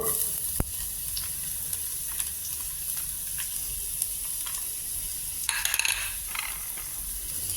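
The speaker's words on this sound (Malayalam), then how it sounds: "അതിലേക്ക് 2 ടീസ്പൂൺ ഒലീവ് ഓയിൽ ഒഴിച്ചു കൊടുക്കാം. ഇനി നമുക്ക് അതിലേക്ക് നമ്മൾ കട്ട് ചെയ്ത് വെച്ചിട്ടുള്ള വെളുത്തുള്ളി ചേർത്ത് കൊടുക്കാം." Garlic cloves sizzling in olive oil in a pan, a steady hissing fry with occasional sharper crackles and a few light scrapes of a utensil, no voices.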